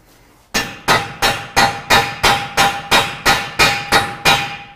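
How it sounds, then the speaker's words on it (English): A battery-operated impact tool hammering on a 2014 Chevy axle shaft nut, a close, loud run of eleven sharp, evenly spaced impacts about every 0.4 seconds, with no talk. "We need a battery-operated hammer at this point."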